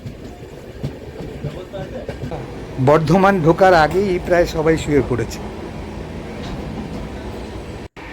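The Darjeeling Mail passenger train runs fast with a steady rumbling rattle from inside the carriage, while someone talks over it for a couple of seconds midway.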